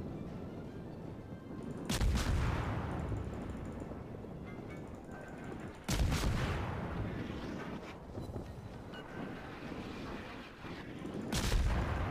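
Naval guns fire in World of Warships, including the cruiser Dresden: three heavy booming salvos spaced several seconds apart, each with a sharp crack and a long rolling decay over windy sea ambience.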